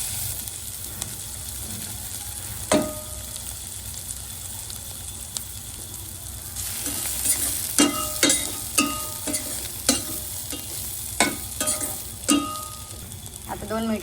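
Crushed peanuts stirred into cluster bean chutney frying in a pan, a low sizzle under quick, clattering scrapes of a spoon that grow busier and louder in the second half.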